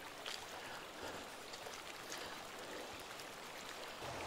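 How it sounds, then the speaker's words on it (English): A river churns across rapids in a continuous, faint broadband rush of moving water, with no voices. "There's something really beautiful and calming from listening to water as it churns across rapids."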